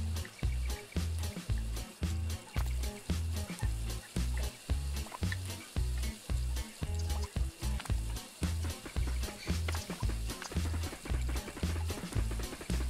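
Meat sizzling in a pan in the cooking video game Overcooked, a steady frying hiss over a pulsing, rhythmic game music beat that repeats throughout, quiet and continuous.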